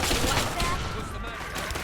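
Minigun fire in Fallout 3, a dense, continuous roaring burst of rapid shots, loud and close for the whole moment.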